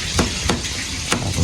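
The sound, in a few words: fish frying in a pan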